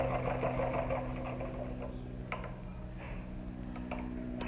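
Sewing machine stitching pearl-trimmed baby shoes, a quiet steady mechanical whir with a fast rhythmic needle patter and a few small clicks, running continuously with no voices.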